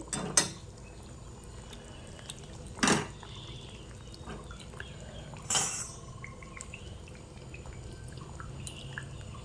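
Boal fish pieces, tail included, boil in a curry broth with potato and eggplant: three loud bubbling plops at spaced intervals over a low, steady simmer, with no talk.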